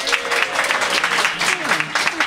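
Studio audience at a comedy panel show applauding and cheering to award points, brief dense clapping with voices talking over it.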